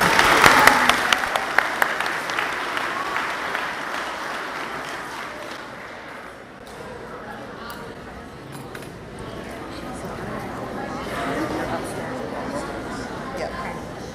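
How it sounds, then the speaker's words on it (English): A school audience gives a round of applause for seventh-grade award recipients at an academic awards ceremony, loud at first and then thinning into a steady, softer patter with a few clinks, alone with no talk over it. "Can we give them all another round of applause?"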